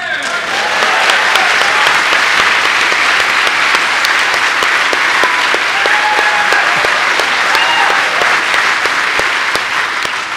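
A Green Party autumn conference hall fills with loud, sustained audience applause, thick continuous clapping from start to finish with no break.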